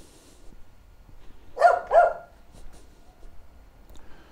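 A woman imitates a dog with two quick, close barking yelps on a hiking trail, heard alone against quiet outdoor background.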